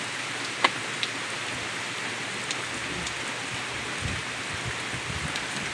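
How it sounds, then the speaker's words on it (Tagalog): Steady rain falling during a prolonged rainy spell after a typhoon, a continuous even hiss with a few louder drops close by and no talking. "Ilang linggo na kaya itong ulan na to?"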